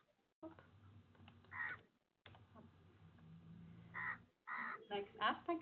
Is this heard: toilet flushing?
no